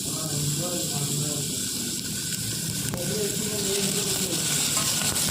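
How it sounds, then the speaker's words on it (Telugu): Onions frying in oil in a pan for a masala curry, a steady close sizzle and hiss that runs unbroken throughout, with faint stirring underneath. "లైట్ బ్రౌన్ కలర్ వచ్చే వరకు మనం ఈ ఆనియన్స్ అనేవి ఫ్రై చేసుకోవాలి."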